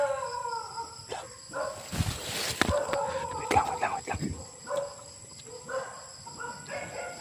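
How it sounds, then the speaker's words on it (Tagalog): Several dogs bark and howl in short scattered bursts at night, some near and some farther off, mixed with faint crickets and a low murmur of voices. "Nagkatahulan yung mga aso."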